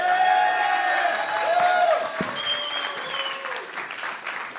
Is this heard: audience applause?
yes